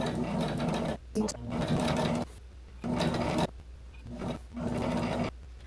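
Sewing machine running in bursts while stitching stretchy fabric close along an original seam, several close, steady whirring runs separated by short pauses.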